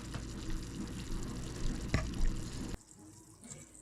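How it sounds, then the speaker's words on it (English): Sugar syrup for candied grapes simmers in a pot, a dense low bubbling and crackling that runs steadily and close, then drops abruptly to a quieter, sparser simmer near the end. "The bubbling is slowing down."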